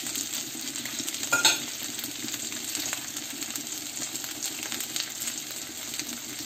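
Salmon fries in butter in a pan with a steady, close sizzle and crackle that runs the whole time, broken by a brief louder clink of a utensil stirring partway through.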